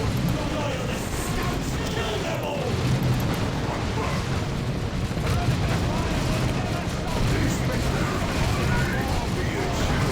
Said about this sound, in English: Grenade volley in. Bolt out. My Havoc squad's putting some good fire down.